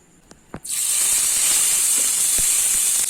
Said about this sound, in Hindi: अभी इसमें हम लोगों ने जो ऑनियन और लहसुन का पेस्ट बनाया था वो ऐड कर लेना है